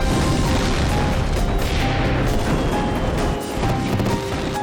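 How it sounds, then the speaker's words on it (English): A dense, loud crashing roar with scattered cracks and bangs as an explosion during a fire with pyrotechnics sends debris clattering and rumbling continuously. "Moments later, another explosion sends debris flying."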